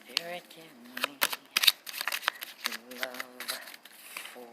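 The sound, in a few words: tarot cards being shuffled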